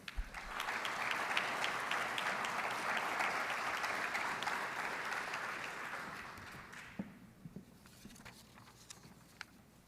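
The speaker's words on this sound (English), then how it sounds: "let's have one more round of applause for our graduating seniors and our future servicemen and women" Audience applause for graduating seniors at an armed services awards ceremony, a long, steady wash of clapping from a large crowd that thins and tapers off into scattered claps near the end.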